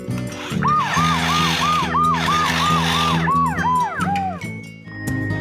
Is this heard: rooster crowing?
no